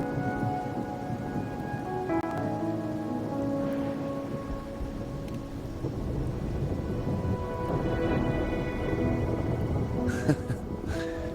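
Rain falls with rumbling thunder in the video game Wuthering Waves, a steady wash of rainfall layered with deep rolls and tonal game music or ambience, with no voices.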